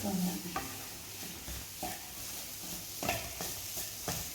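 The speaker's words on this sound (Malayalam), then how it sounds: "നന്നായിട്ട് മുറിച്ച് വറുത്തെടുക്കണം" Shallots and curry leaves fry in a pan for Kerala ulli theeyal, a steady close sizzle with occasional stirring scrapes and clinks of a spoon against the pan.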